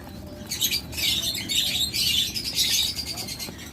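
Nine-day-old king quail chicks give a steady stream of thin, high peeping chirps, close and fairly busy throughout, with soft scratching underneath.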